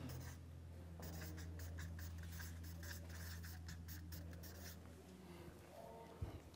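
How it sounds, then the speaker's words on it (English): Pen or pencil scratching across paper as notes are jotted down in a classroom-style session, a steady soft scribbling with brief strokes, fairly close, over low room hum with faint voices in the background. "Let's write that down."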